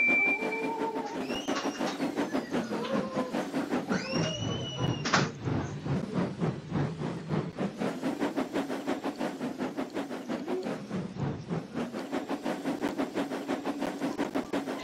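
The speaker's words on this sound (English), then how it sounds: "I'm pulling the mail train." A train pulling the mail train runs along the rails at night with a steady rhythmic clickety-clack over the whole stretch, plus a few whistle-like tones and a sharp hiss early on, all fairly loud and close, with no talking.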